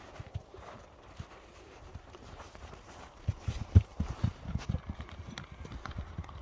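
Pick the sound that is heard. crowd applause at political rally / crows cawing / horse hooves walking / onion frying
horse hooves walking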